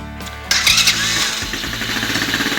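Odes Rider 8-125cc ATV engine starting: after a brief mechanical click, the motor catches at about half a second and settles into a loud, close, pulsing idle that carries on steadily to the end.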